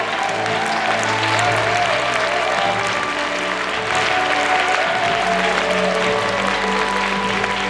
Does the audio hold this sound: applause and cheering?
yes